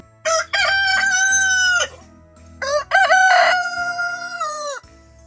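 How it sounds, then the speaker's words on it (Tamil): Two long, loud rooster crows, each a drawn-out cock-a-doodle-doo ending in a sustained high note, heard close and alone. "சேவல் கூவும்."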